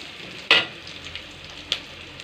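Green chilli, garlic and onion frying in a pan on a home stove: a steady, soft oily hiss with a sharp clatter near the start and a lighter knock later, no voices.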